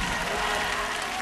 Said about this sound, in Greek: Δεν ακούω χειροκρότημα στον Κάρι Νόβελ